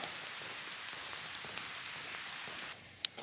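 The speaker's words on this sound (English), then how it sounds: "It rained super heavy for over an hour, and then light rain for another hour after that or so" Steady, dense rain pours down on the Ice Age Trail in a continuous broadband hiss, with a few sharper drips near the end as it briefly eases.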